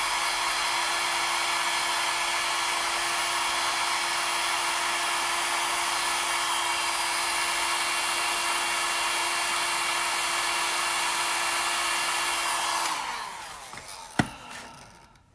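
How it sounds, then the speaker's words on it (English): A hair dryer blows steadily and loudly on freshly made-up eyelashes with a constant whooshing hum, then switches off near the end, leaving a short click and quiet handling noise. "I'm gonna blow dry those lashes"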